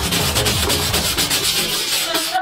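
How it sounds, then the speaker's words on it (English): Coarse 80 grit sandpaper rubs hard and continuously across a rusty copper plate, a loud close-up gritty scraping with a quick back-and-forth rhythm. "First, I use 80 grit sandpaper to remove the surface patina and dirt."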